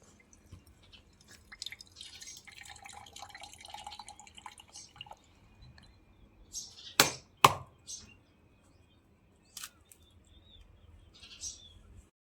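A coconut being smashed open for a havan fire ritual at a Khodiyar Maa temple: two sharp, loud cracks in quick succession stand out over faint background clatter and dripping, with a few softer knocks afterward.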